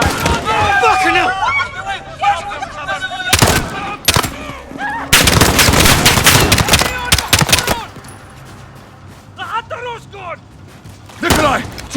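Bursts of machine gun fire in the video game Modern Warfare crack out in loud rapid volleys, broken by short pauses, while soldiers shout and talk over the combat.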